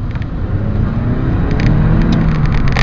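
A 2003 BMW E46 318i four-cylinder engine hums steadily with a low rumble, its tone rising slightly as it revs, heard close and continuous.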